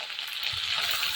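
Cumin and mustard seeds sizzle in hot ghee for a dal tadka, giving a short burst of dense, crackling frying hiss with no voices.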